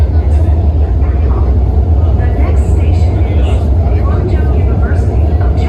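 A metro train in China roars along at speed with a steady, heavy rumble and rushing noise throughout, while people talk faintly in the background.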